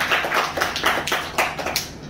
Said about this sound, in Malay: Jadi saya rasa kita boleh bagi satu tepukan lah kepada